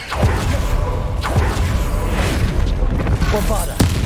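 Flipendo spell effects cast in the video game Hogwarts Legacy, several sharp whooshing booms and thuds at irregular intervals, with a voice calling out spell names between the blasts.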